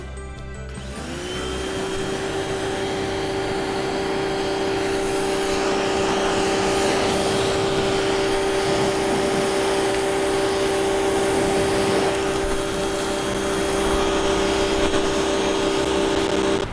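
A pressure washer strips paint from a wooden arbor, running as a loud, steady motor whine with a constant hiss of spray that continues unbroken from start to finish.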